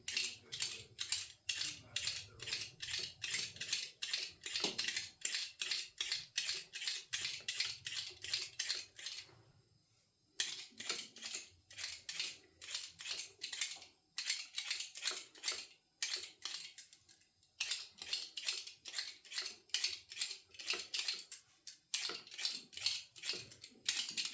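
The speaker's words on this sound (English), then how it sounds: "So to make the mashed potato, first up, I'm going to peel the potatoes." Potatoes are peeled for mashed potato, a rapid run of crisp, rhythmic scraping strokes close by, pausing briefly twice before continuing at the same brisk pace.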